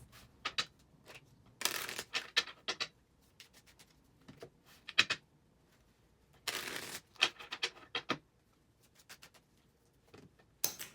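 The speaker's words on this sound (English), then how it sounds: "Let's get these cards shuffled up so we can see what kind of guidance they're going to provide for us." Tarot cards being shuffled by hand in irregular bursts of riffling and flicking, separated by short quiet gaps, close and fairly soft.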